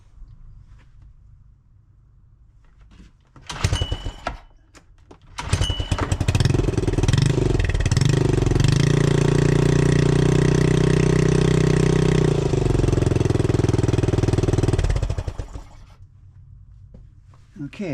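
A Honda 2HP outboard motor is started after servicing, catching after a few sputtering pulls, then running loud and steady for about ten seconds before cutting off, with quiet background before and after.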